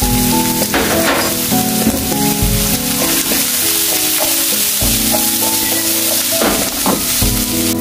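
Onion and garlic fry in a small amount of oil in a pan, giving a loud continuous sizzle with intermittent scraping and stirring clatter, close up, with no talking.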